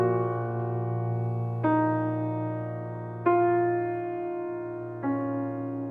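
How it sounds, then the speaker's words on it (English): Orchestral opening of Beethoven's Fourth Symphony: sustained harmonic chords over a steady low foundation, with three fresh attacks arriving roughly every one and a half to two seconds, moderately loud and alone without voices. "if you take that interval and look at the beginning of the 4th symphony,"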